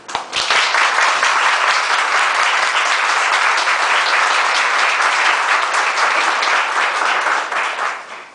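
A lecture audience breaks into dense, loud applause that holds steady for about eight seconds before tapering off at the end.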